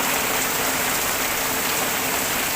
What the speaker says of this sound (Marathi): किती पाऊस येतोय हे बघा